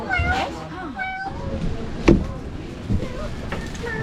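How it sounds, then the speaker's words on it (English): Two cats meow in short, tonal calls near the start and again midway, fairly close but soft, with a brief thump and people chatting in the background outdoors in Baler, Philippines. "And there's two cats over here."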